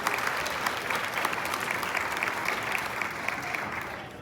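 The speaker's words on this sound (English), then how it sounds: "let's give them another big round of applause" Steady, dense applause from the crowd at the opening of a new library in Gresham, Oregon, loud and continuous throughout, slowly thinning toward the end.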